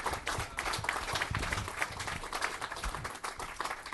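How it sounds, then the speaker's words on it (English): An audience at a program event bursts into a sustained round of applause, many hands clapping in a dense, steady patter that holds for about four seconds. "I think he deserves a good round of applause"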